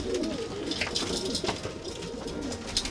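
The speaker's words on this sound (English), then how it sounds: "Racing pigeon, just trying to get home." A rescued racing pigeon coos in soft, repeated throaty murmurs, close and steady, with no voices over it.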